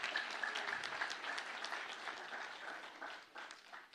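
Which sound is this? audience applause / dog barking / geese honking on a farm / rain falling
audience applause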